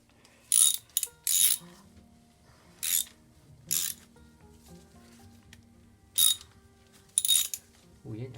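A ratchet wrench clicks in short, sharp bursts as it works stiff bolts on a Honda VF750F motorcycle engine, with quiet pauses and faint low hum between strokes, close up.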